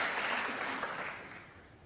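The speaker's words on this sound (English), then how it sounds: "And now they can have a round of applause." A snooker audience at the Masters semi-final applauds, a brief burst of dense clapping from the arena that gradually fades.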